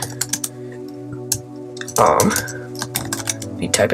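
A Minecraft command being typed on a computer keyboard: quick, close key clicks in uneven bursts, with a louder flurry partway through and talk in the background.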